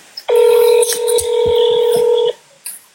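A touch-tone phone keypad sounds one sustained dual-tone beep lasting about two seconds, with faint clicks and a brief blip after, played back from a recording during a phone call.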